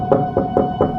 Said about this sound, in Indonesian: Terdengar samar ada yang mengetuk pintu dan memanggilku dari luar kamar